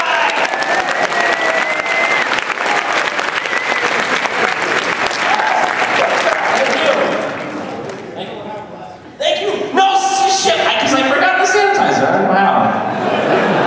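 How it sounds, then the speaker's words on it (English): Loud applause from a convention crowd at a MAGFest fan Q&A panel, sustained for about seven seconds before fading, then a burst of chuckles and scattered cheering with talk and laughter mixed in. "give a clap for you guys"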